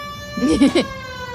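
A siren in the video game L.A. Noire wails briefly over a steady electronic hum with horizontal tones, rising and falling for under a second.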